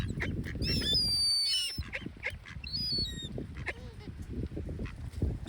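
A pet duck quacks in repeated nasal calls close by among other birds, over steady outdoor rumble and scattered bird noises.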